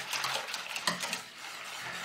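A spoon works steadily through warm chicken aspic liquid with dissolved gelatin in a pot, giving a close, soft swishing and scraping with occasional light clinks against the metal, and no voices.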